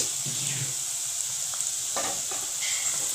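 Shredded cabbage stir-fried in a pan with chana dal, a continuous close sizzle with occasional spatula scrapes and no talk.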